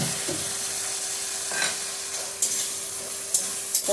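Tomatoes frying with spice paste in a pan, a steady soft sizzle with scraping stirs and a few sharp clinks of a spoon against the pan.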